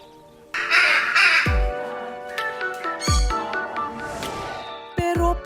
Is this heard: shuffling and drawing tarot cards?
no